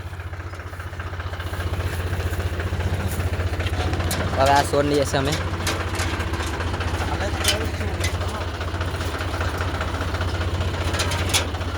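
A Mahindra 4x4 tractor engine labours hard, pulling a stuck sand trolley, its low steady rumble running throughout with a brief louder surge midway, while people talk over it.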